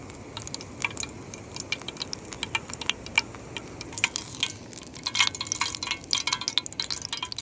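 Tempura-battered oxeye daisy frying in hot oil gives a close, steady bubbling hiss with many quick crackles and pops throughout, with no voices over it.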